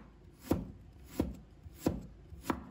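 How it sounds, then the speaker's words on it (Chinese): A knife chops fresh ginger into thin strips on a board, four crisp, evenly spaced strokes close up in a quiet kitchen. "再切成丝"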